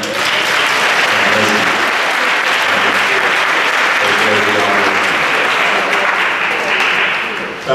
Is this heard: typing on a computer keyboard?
no